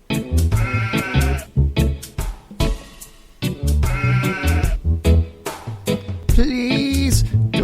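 Loud, wavering goat bleats repeat in close succession, each bleat separated by brief gaps, set against a musical backing.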